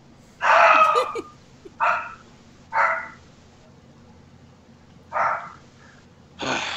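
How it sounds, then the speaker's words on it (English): A dog barks five times in separate bursts over several seconds, one long bark followed by shorter ones with pauses between, fairly close and clear against quiet background. "Stupid dog. Barks his displeasure."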